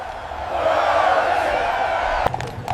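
A large crowd cheers in celebration for William Henry Harrison, a dense, sustained roar of many voices with a sharp knock near the end.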